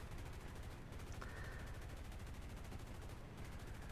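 The .50 cal machine guns of a B-34 bomber fire in War Thunder as a continuous rapid rattle, loud and dense throughout with an even, driving rhythm and no pauses.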